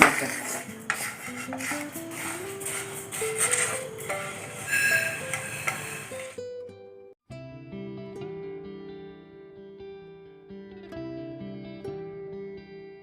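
Roasted sesame seeds are scraped and tipped from a hot pan into another vessel, with busy metallic clatter and rustling up close for several seconds before tonal background music takes over.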